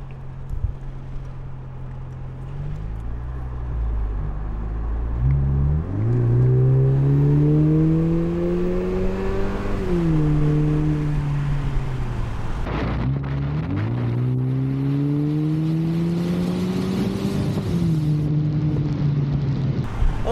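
Lexus IS with an aftermarket axle-back exhaust revving in sport mode: a steady low idle rises into two long, smooth revs with a deep hum, each falling back down, heard close and alone with no talk.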